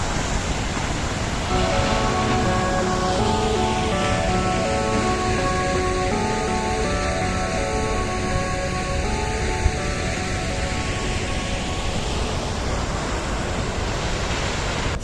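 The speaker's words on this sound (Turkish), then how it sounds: "ses, şelalenin sesini veriyor" A loud, continuous roar of rushing water from Düden Waterfall in Antalya, Turkey, fills the whole stretch without pause.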